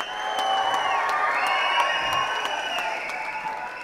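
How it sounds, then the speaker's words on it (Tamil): A crowd at the Kalaga Thalaivan film audio launch applauds and cheers continuously, with scattered whoops over a sustained tonal background. "இந்த அரங்கமே அதிர மாதிரி நம்ம உதய் சாருக்கு நல்ல ஒரு கரகோஷம் கொடுங்க."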